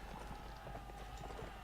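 A horse galloping in the video game Mount & Blade: Warband, heard as steady, rapid clip-clop hoofbeats under a dense, continuous background of battle noise.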